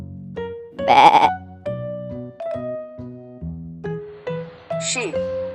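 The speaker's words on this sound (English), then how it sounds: "Sheep." A sheep bleats repeatedly, close and clear, in a series of wavering calls of varying length separated by short pauses.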